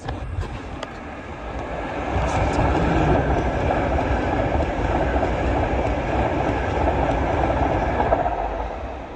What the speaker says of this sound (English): here comes an LNER Azuma to Leeds